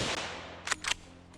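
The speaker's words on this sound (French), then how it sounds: "Et je saisis l'occasion et je tire la chevrette." Hunting rifle fired at a roe deer during a big-game drive hunt, two quick faint cracks in close succession followed by a softer third pop, heard outdoors at a distance.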